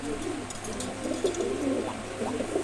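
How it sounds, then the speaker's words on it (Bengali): A pair of pigeons coo softly in low, throaty, repeated bursts, close by, against quiet background noise. "এই কবুতর জোড়া দুইটা শুধু মারামারি করে,"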